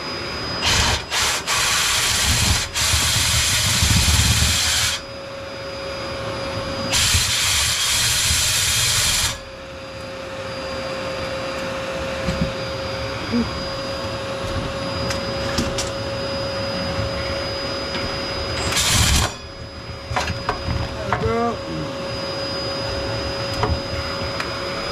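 A power drill spins a cable loop sweeping a previously tarry flue pipe, giving a loud steady whirring hiss with scraping and knocking inside the pipe, cutting in and out in a few bursts before running continuously.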